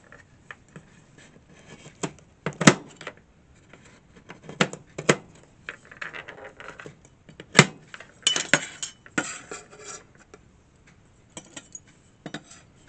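A knife chopping a piece off a whole nutmeg, several sharp irregular cracks and knocks against a hard surface with scraping in between, close and moderately loud.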